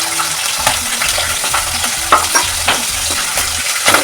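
Green chillies and garlic fry in hot oil with a steady close sizzle, broken by repeated stirring scrapes and a few sharp pops spread through the clip; no one speaks.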